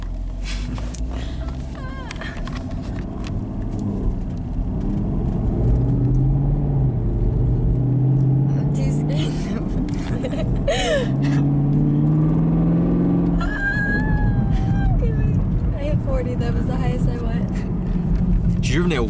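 A 455 hp 2017 Chevrolet Camaro SS in sport mode pulls away, its V8 engine rumbling and rising in pitch over two strong surges, heard close from inside the car with people talking over it.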